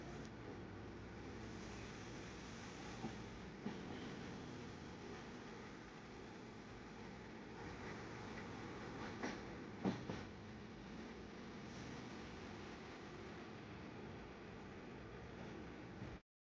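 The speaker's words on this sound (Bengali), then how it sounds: "ট্রেন উঠে পড়ল ফারাক্কা ব্রিজে" A train crosses the Farakka bridge over a wide river at night, a steady, muffled rumble heard from inside with faint rhythmic clatter and a few brief knocks, no voices.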